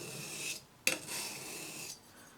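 Steel wood plane blade rubbed back and forth across a flat sharpening stone, giving close, soft rasping strokes with a brief pause and a sharp scrape in the middle, no talking.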